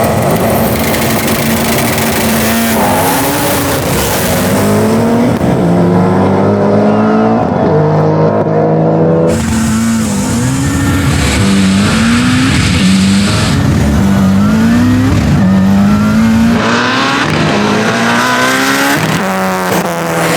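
An 1150 hp Subaru WRX STI and a twin-turbo Ford F-series truck drag race, engines revving loudly through repeated rising gear pulls and shifts, with tire noise, sustained and close throughout.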